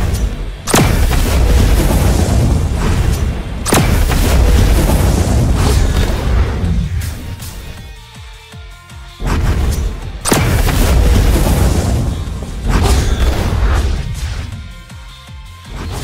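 Repeated heavy explosions from the Kitsune Z move in the Blox Fruits video game, loud booming blasts with sharp onsets near 1, 3.7 and 10.3 seconds, each trailing into rumbling crashes.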